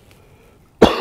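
A single sharp cough from an adult right at the end after near silence, loud and close.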